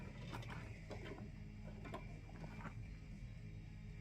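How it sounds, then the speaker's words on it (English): A bung wrench works loose a tight threaded bung on a metal bulk fuel drum, giving scattered metallic clicks and ratcheting scrapes over a steady low hum, fairly quiet and close. "My bung hole wrench."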